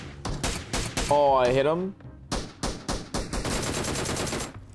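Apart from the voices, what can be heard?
Mini 14 rifle gunfire in video game PUBG Mobile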